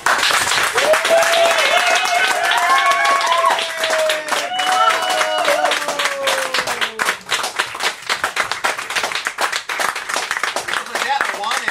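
An audience claps and applauds loudly and continuously after a poetry reading, with dense clapping throughout, voices calling out over it and a voice speaking partway through.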